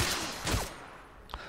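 Gunfire in S.T.A.L.K.E.R.: Call of Chernobyl: a few sharp, close shots in quick succession, then a lone fainter crack after a short pause, with no talk over them.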